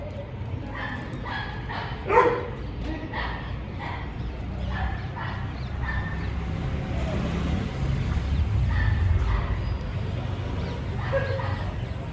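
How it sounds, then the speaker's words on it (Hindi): A German Shepherd barks repeatedly in short, steady bursts from inside a container, with a low rumbling background throughout. "जैसे ही मुझे देख लिया है जैक ने, तब से कंटिन्यूसली भौंके जा रहा है कंटेनर के अंदर"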